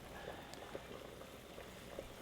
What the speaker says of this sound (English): Water's boiling heavily.